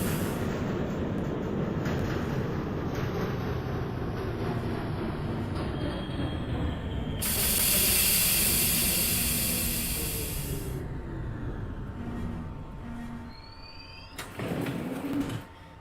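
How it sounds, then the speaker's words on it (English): A New York subway 3 train, Brooklyn bound near Rockaway Avenue, running in the OpenBVE train simulator game: loud continuous rumble and rail noise, a sustained bright hiss or squeal in the middle, then fading running sounds and a final brief burst. "This is a Brooklyn bound 3 train."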